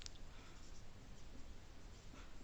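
Pen scratching across paper as a full name is written out by hand, a faint continuous scribbling texture with no talk.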